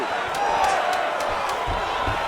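An arena crowd in the UFC 5 video game murmurs and cheers steadily in the background during a fight, with a few sharp slaps or impacts standing out.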